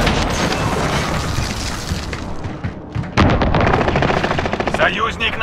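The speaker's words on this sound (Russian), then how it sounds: "Они наносят точечный авиаудар." Precision airstrike explosions and gunfire in the video game Call of Duty Warzone Pacific on an airfield map: loud, continuous rapid bursts and heavy booms, with a sharp blast near the middle.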